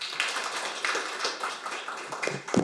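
An audience at a seminar on delayed post-war PTSD and veterans' policy applauds in a dense, continuous patter of many hands, moderately distant and fairly faint, with a few louder claps near the end.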